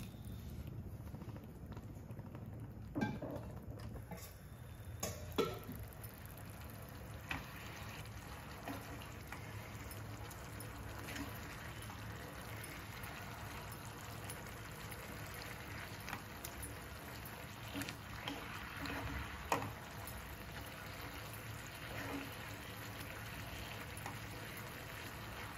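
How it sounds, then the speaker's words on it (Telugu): Boiled milk is poured into carrot halwa in a pan, a faint, continuous liquid trickle and splash with occasional soft clinks, heard quietly and up close. "నేను దీంట్లో కొంచెం పాలు వేసుకుంటున్నాను, అంటే కాగబెట్టిన పాలు వేసుకుంటున్నాను."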